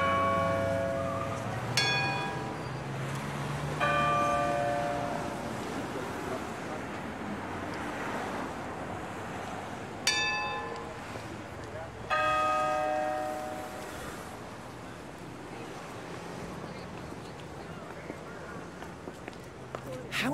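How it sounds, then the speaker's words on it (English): Big Ben chimes ring out in the Peppa Pig World Adventures video game, two pairs of deep resonant bell strikes whose tones linger and fade over a steady street and traffic ambience. "Big Ben is ringing."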